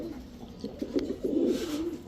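Close, soft cooing from fancy pigeons such as Pakistani teddy and high-flyer giribaj birds, a low throaty burble in a few short swells that grows fuller toward the end, with no voices.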